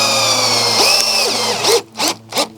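A power driver sinks a 2.5-inch exterior coated screw into pressure-treated 2x4 lumber for a shed floor, with a loud whirring run followed by three short, sharp bursts of the driver, close up.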